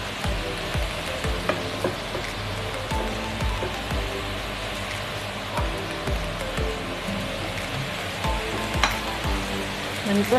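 Cooked rice is stir-fried in a pan for fried rice, with steady close sizzling and rhythmic scraping strokes of a spatula throughout and no voices.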